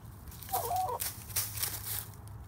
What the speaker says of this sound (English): So now the chickens that we have are over here in the playing in the fort.